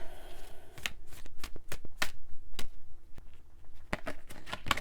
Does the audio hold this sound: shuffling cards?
yes